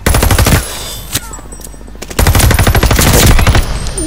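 Rapid automatic gunfire from a video game gun, loud and close, in two dense bursts with a brief pause between them and no talking.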